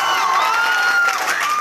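An audience claps and shouts together in a loud, sustained roar of cheering and whoops, with no pause through the short stretch.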